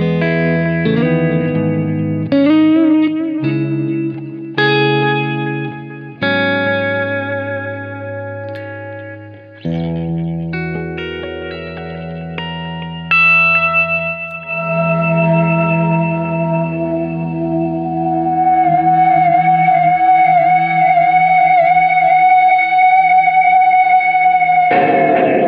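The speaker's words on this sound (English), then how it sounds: "And it's also going to turn on the tube driver and the sonic distortion." An electric guitar plays through a pedal chain with pitch vibrato, delay, tube driver and distortion. Loud, staccato chords and notes give way to long, sustained, wavering feedback tones that build steadily, with no talking.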